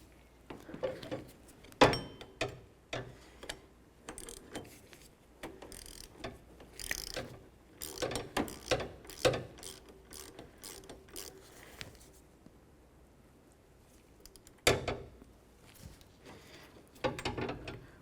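Ratchet snugging the power steering pump pulley nut on a 2003-2007 Honda Accord, bursts of rapid clicking pawl strokes close up, stopping and restarting with brief pauses and a few sharper metallic knocks.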